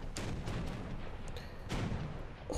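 Ship cannons booming in the War Thunder video game during a naval battle, a couple of heavy, sharp blasts with rumbling tails over a steady background of engine and battle noise.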